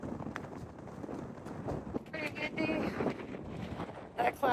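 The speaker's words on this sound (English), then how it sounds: "Pretty windy." Gusty wind buffeting the microphone outdoors on the way to Mt. Margaret in Denali National Park, a steady rough rumble with stronger gusts partway through, while someone talks.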